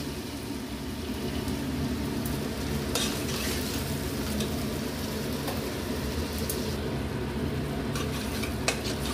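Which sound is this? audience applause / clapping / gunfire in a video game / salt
salt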